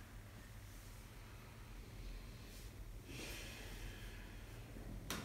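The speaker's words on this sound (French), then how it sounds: "on va tourner de l'autre côté en inspirant en avant et en expirant lorsque l'on est en arrière" Slow, soft breathing during a prenatal breathing exercise, a quiet steady airflow with a stronger breath in the middle and a brief sharp exhale at the end.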